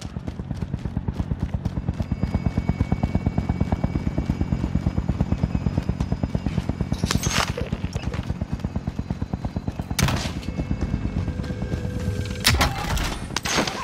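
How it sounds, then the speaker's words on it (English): A helicopter arrives with a steady, loud rotor chop throughout, a dense rhythmic thumping that stays close, broken by a few sharp bursts of noise. "Helo is inbound"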